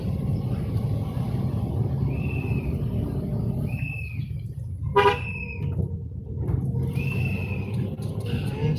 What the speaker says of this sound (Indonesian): Masih klakson lagi.